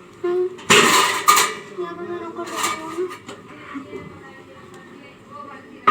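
A small bowl is washed in a home kitchen: loud close clinks and clatters of the dish, a couple of bright bursts and then quieter knocks, with people talking throughout.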